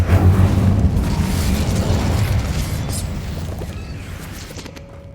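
Fire spell Incendio cast in Hogwarts Legacy: a loud, deep whooshing burst of flame that roars at once, then slowly fades over several seconds, alone without talk.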